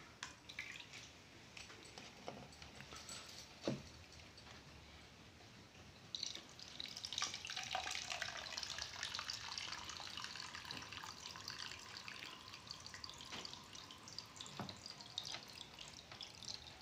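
Water runs steadily from a tap outdoors. The flow is faint at first, grows fuller and hissing partway through and continues without pause, with occasional soft knocks and no talk.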